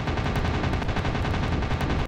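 Aircraft cannons in a WW2 dogfighting game rattle off a loud, rapid continuous burst of shots for about two seconds, then cut off abruptly.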